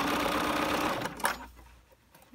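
A sewing machine stitches fabric for a custom container in a fast, steady whirring run that stops abruptly after about a second, followed by a few quiet clicks.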